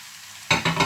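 Peppers and olives tipped into a pan of frying carrots and potatoes, a quiet pause then a sudden burst of close sizzling with two or three stirring surges.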